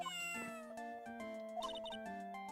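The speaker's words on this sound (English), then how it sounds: "Ah, what a lovely cat." A cat meows in the Ace Attorney game, a short cartoonish mew set over gentle melodic game music, with no talking.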